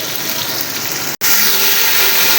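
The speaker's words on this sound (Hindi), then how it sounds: "अब ये जले ना इसलिए मैंने इसके अंदर पानी डाल दिया है।" About a cup of water pours steadily and loudly into a pot of roasting whole spices for mutton pulao, a continuous close gush broken by a split-second cut.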